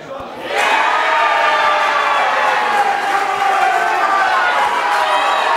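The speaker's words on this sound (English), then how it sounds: "Listen to this ACT crowd go off if this thing falls in." An ACT crowd at the women's teams final of the 2017 AEBF national eight-ball championship erupts in loud, sustained cheering and roaring that swells quickly and holds throughout.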